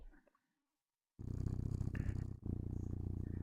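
A Christmas-themed cat avatar in VRChat purrs in a steady, low rumbling loop after a second of near silence, close and fairly loud, with a brief dip midway.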